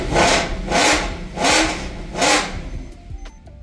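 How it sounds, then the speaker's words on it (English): A Mercedes E63 AMG engine revs four times in a steady rhythm, each rev a loud, rising surge that drops back, then settles to a quieter idle. "Let's start it up and rev it."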